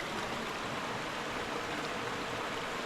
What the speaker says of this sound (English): Quite a bit of water right through here. So this is definitely a nice little stream.